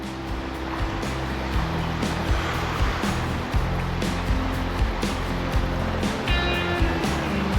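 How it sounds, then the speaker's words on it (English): Waterfall beside the Pacific Crest Trail around mile 900, a loud, constant rushing roar of falling water that fills the whole stretch without pause, with a low, steady rumble underneath and no talking. "That waterfall's crazy."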